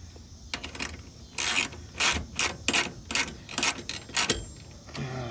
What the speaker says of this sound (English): Get the ratchet going the right way.